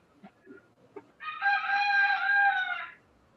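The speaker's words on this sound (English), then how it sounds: "I think the Roosters finally got it right now." Rooster crowing at daybreak, one long loud crow rising clearly over a quiet background after a few faint clucks and small noises.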